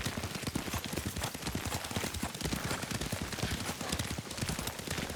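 Horse hooves clip-clop steadily at a riding pace in Ghost of Tsushima, a dense, continuous rhythm of close, loud hoofbeats with faint other game sounds.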